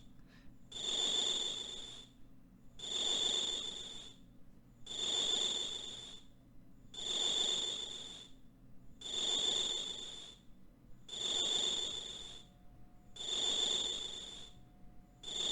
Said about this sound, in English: Oh no, it's really loud crickets again.